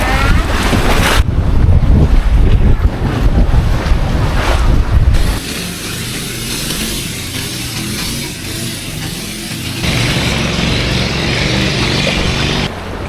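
Sea waves and strong wind on the coast by Wat Khun Samut Chin in Thailand, a loud blustery roar of gusts buffeting the microphone over breaking surf, easing then rising again.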